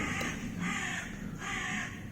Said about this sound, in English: Bloody birds are noisy this morning.